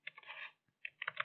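Keystrokes from code being typed on a computer keyboard, a short burst of quick clacks, a brief pause, then another run of taps, close and moderately loud with no voices.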